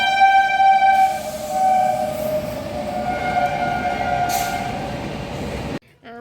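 A train at a railway station in West Bengal, its loud sustained horn blaring with layered tones before fading into the rumble of rolling wagons, then an abrupt cut near the end.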